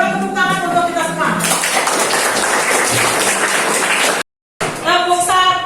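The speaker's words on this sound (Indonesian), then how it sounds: "Tepuk tangan untuk kita semua." Students in a classroom applaud together in a loud, dense burst of clapping. A voice talks before and after it, and the sound cuts out briefly near the end.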